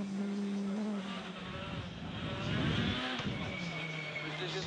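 A Monte Carlo Rally car on studded tyres revs and accelerates through a stage, its engine tone rising and falling under continuous commentary.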